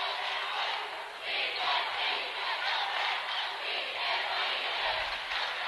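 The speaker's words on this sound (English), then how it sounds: "Both crowds really into it right now." Spectators at a high school boys basketball super sectional cheer in a sustained, swelling roar, a broad wash of crowd noise rising and falling steadily across the gym.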